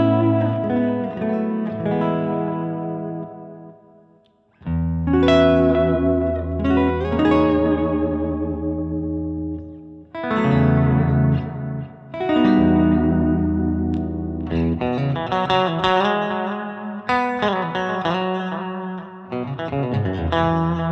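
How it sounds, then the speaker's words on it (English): Electric guitar played through a real tape echo unit, with sustained distorted chords and melodic phrases trailing smooth repeating echoes and reverb, loud and alone with no talking, and a brief pause in the middle. "Okay, then let's put on the tape echo."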